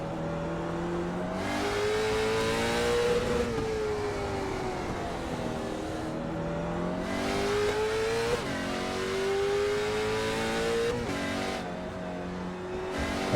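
Race car engine on a fast lap around the Okayama circuit in a racing video game, held at high revs with rising and falling pitch through gear changes and corners, loud and continuous with no talk.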